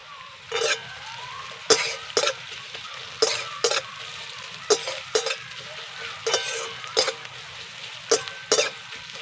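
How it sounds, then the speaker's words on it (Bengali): Two medium chopped onions fry in hot oil in a pan, giving a steady sizzle broken by sharp, regular knocks of a utensil stirring. The sound is close, with no voices. "তেলটা কিন্তু গরম হয়ে গেছে এবার কেটে রাখা পেঁয়াজ দিয়ে দেবো"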